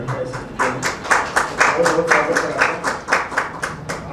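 A small studio audience claps in a quick, steady rhythm to welcome a guest before a stage play, roughly fifteen sharp claps over a few seconds at an even, moderate level.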